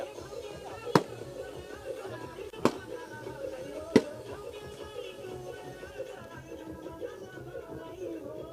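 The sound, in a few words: fireworks going off during a welcome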